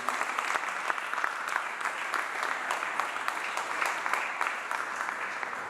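An audience applauding at a communication event on vehicle fleet management, sustained dense clapping from many hands throughout, fairly close and even in loudness.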